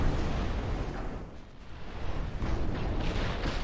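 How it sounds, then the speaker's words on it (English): Naval guns firing high-explosive shells in Ultimate Admiral Dreadnoughts, nine-inch guns in triple turrets, a dense continuous roar of booming gunfire that dips briefly before swelling again. "we fire 3 shells per turret"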